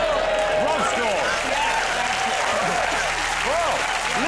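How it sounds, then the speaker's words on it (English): A studio audience at a comedy panel show applauds loudly and continuously, with a dense wash of clapping and some cheering throughout. "Well, listen to the crowd!"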